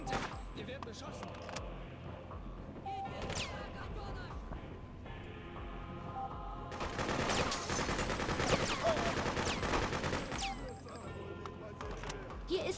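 Gunfire in the video game Freedom Fighters at a harbor, with scattered shots early and then a denser, louder stretch of rapid firing, mixed with game sounds and speech.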